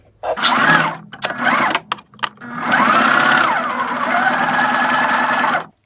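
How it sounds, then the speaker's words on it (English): A sewing machine stitches a scrunchie in short whirring bursts of motor whine, then settles into one longer continuous run close by before stopping abruptly. "I will start sewing"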